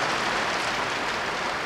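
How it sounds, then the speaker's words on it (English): Steady rain falls outdoors as a dense, even hiss that continues unbroken throughout, with no voices. "Bit of rain. Woo!"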